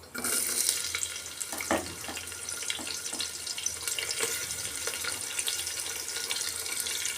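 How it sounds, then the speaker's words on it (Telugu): Onions frying in a pan while a millet breakfast is cooked: a steady, close sizzle with occasional clicks and scrapes of stirring, and no voices. "ఇప్పుడు ఉల్లిపాయలు వేసుకుందామండి చూపించాను కదండి ఉల్లిపాయలు వేస్తాను"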